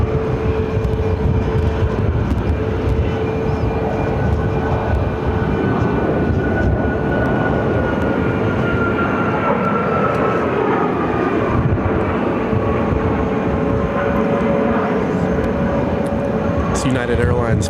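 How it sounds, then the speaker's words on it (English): United Airlines Boeing 737 MAX 8 jet at Phoenix airport: a continuous, loud engine roar with a slowly shifting whine, heard in breezy conditions, with people talking over it. "United Airlines Flight 763 headed to Newark on a 737 MAX 8"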